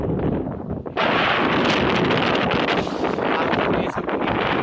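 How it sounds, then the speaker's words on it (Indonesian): Strong gusting wind in a town where a tree nearly fell onto a food stall, roaring loud and steady close to the microphone, surging sharply after a brief lull. "Anginnya sampai ini loh."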